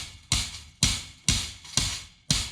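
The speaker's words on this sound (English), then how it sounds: "I just hammer them a little bit." Hammer strikes flattening bent-out wire on a rabbit cage, five sharp metallic blows at an even, unhurried pace, close and loud with brief ringing between hits.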